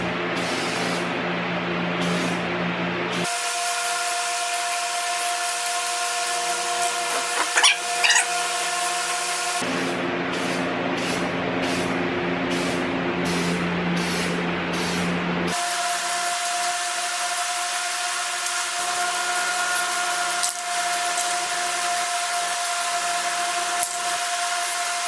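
Black Rust-Oleum truck bed coating sprayed from a can onto a Toyota Tacoma, a steady hissing spray in several long bursts separated by short gaps, fairly close and even in loudness.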